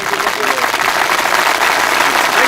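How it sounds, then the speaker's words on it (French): Crowd applause at an international show-jumping event in Royan, dense continuous clapping with cheering voices mixed in. "Tous vos applaudissements pour ce grand chant."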